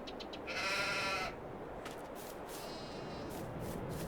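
Sheep bleating in the farming video game Farming Simulator 22, with one clear, steady bleat near the start heard over a constant background hum of the farm scene.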